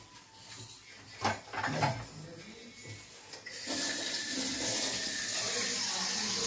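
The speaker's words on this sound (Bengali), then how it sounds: "জল দেবো।" Water pours into a pot of cut raw mango to be boiled for kacche aam papad, first in brief splashes and then as a steady, close, rushing stream that continues to the end.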